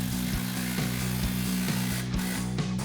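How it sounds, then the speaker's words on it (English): Impact wrench with a 15mm socket tightening exhaust clamps under a Ford F-150, a loud, rapid, evenly pulsing hammering buzz close by, continuous throughout with no talking. "So now we're gonna grab our impact and 15mm socket and tighten down our 3 clamps."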